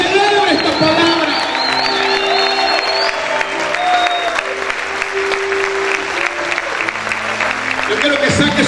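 A church congregation claps and cheers loudly and continuously, with whoops and shouted voices rising through the sustained applause and a few tonal notes ringing underneath.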